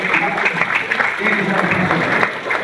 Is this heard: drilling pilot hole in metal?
no